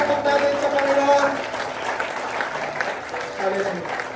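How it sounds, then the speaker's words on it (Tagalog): A church congregation claps together in steady, dense applause that fills the room, with a voice speaking over the clapping throughout. "Laksan po natin yung palakpak natin sa Panginoon."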